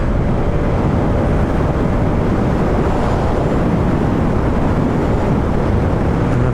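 Steady wind roars over the microphone while riding a Vespa VXL 150 scooter, a loud, continuous broadband rush that stays constant throughout with no engine clearly standing out and no talk.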